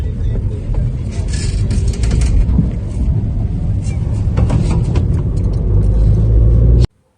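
A car on a road at night in cold, foggy conditions gives a steady, loud engine and road rumble throughout that cuts off abruptly at the end.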